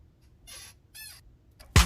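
Squeaky door hinge on a house door, two drawn-out creaking squeals as the door swings, fairly close, followed by a loud thump as it shuts, no talk.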